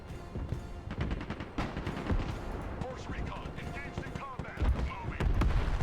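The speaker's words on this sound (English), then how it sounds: "We've got the guns firing on us too" Gunfire and heavy explosions in a war video game during a coastal assault, repeated booms and shots in an uneven dense barrage, loud and continuous with distant rumbling.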